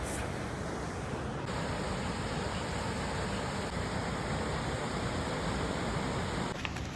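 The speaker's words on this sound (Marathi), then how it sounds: "एकदम पाणी असं पडतंय आणि त्यात पण छोटे धबधबे होऊन नंतर तो खालचा मोठा धबधबा आहे" A waterfall at the Ajanta Caves, with water cascading through small falls into a larger one below, producing a steady, broad rushing roar that continues unbroken, with no talk.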